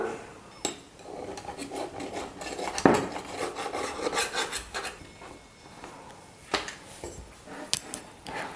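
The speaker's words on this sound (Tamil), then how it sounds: "இந்த மாதிரி கரண்டியை வச்சு நீங்கள் கட் பண்ணிக்கலாம்" A spoon cuts through samosa pastry sheets on a surface, with close intermittent scraping and rubbing strokes and a few sharper taps between quieter pauses, and no talking.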